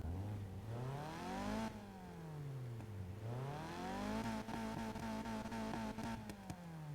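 A bone-stock Mazda Miata MX-5 engine in the Need for Speed racing game climbs and drops in pitch through repeated rev sweeps and gear changes. Light clicks follow later, all at a modest level.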